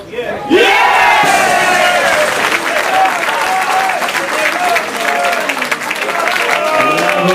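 A football crowd at a lower-league match cheers and applauds after the captain's goal, a sudden loud, sustained roar with clapping and shouts that fills the whole stretch.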